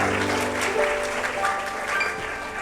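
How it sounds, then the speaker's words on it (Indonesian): Christmas church audience claps for Jesus, a dense, moderately loud patter of applause with faint musical tones and a little voice mixed underneath. "tepuk tangan dulu buat Tuhan Yesus dong."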